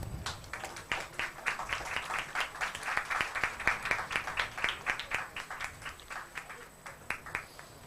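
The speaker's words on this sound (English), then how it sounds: "a huge round of applause for them" An audience at a technology quiz ceremony gives a round of applause: dense, rhythmic clapping from many people that builds to a peak in the middle, then thins out toward the end.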